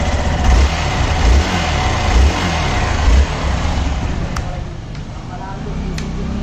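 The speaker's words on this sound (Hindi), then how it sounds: "इंजन नॉइज सुन लो" A Hero Xpulse 200 motorcycle with the older 2-valve engine runs steadily nearby, a continuous low mechanical drone with slight pulsing swells, loud and unbroken throughout.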